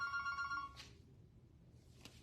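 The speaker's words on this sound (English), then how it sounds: "Oh, the phone's ringing." A telephone bell rings indoors in a brief burst of bright, repeated trills that then stops, leaving a quiet room with low background hum.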